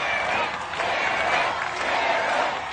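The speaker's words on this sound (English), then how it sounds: "And this crowd is fired up." A fired-up arena crowd at American Ninja Warrior cheers and applauds continuously, a dense roar of shouts and claps held at a steady, loud level throughout.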